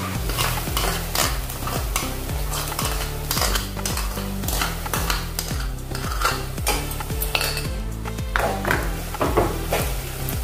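Ginger-garlic masala paste, made in a mixer, fries in a pan as a paneer curry is cooked, giving a steady sizzle broken by frequent rhythmic scraping and stirring strokes of a spoon against the pan.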